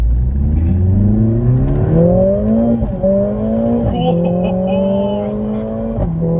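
Mercedes-Benz A45 S hatchback engine accelerating hard, revving up through several gears with sharp drops at each shift, a loud, close, rising growl with brief tire noise.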